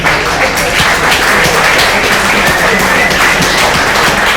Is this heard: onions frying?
no